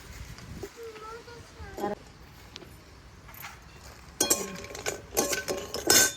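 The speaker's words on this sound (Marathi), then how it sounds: "थोडं थोडंसं तेल टाकायचं आणि असं हे सगळं सामान भाजून घ्यायचं" Spatula scraping and metal clinks in a pan as whole spices roast in a little oil for homemade garam masala, irregular and close, louder toward the end, with a voice speaking early on.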